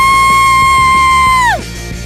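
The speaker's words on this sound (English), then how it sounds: "Why are you screaming?" A loud, sustained high-pitched scream from one person, held steadily for about a second and a half before abruptly dropping off, with faint background noise afterward.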